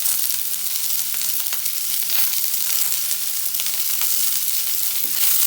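Onion and chili fry in a pan for a restaurant-style aloo matar paneer, giving a steady, close, even sizzle and crackle throughout with no talking.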